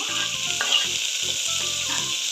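Tomato frying with onions in a pan for vegetable pulao gives a steady, loud hiss throughout, with a spoon clanking and scraping against the pan in several rhythmic stirring strokes up close.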